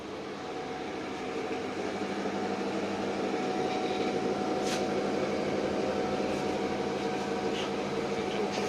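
A solid-fuel air heat generator running in a garage or service station, a steady broadband roar and hum of fan and burner, continuous and unchanging, with a few faint clicks and no speech.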